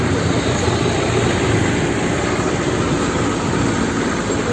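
A Scania truck on a forest access road revving its engine: a loud, continuous, throaty drone that holds steady throughout, close by.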